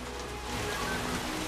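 Steady rain falling on surfaces in a film scene, a constant even hiss of drops throughout with no voices.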